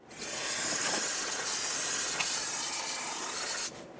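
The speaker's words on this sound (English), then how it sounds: "Use brake parts cleaner for that" Aerosol brake parts cleaner sprayed onto a rear brake hose fitting of a 2008-2012 Honda Accord, a close, steady hiss lasting about three seconds with small pulses, then cutting off abruptly.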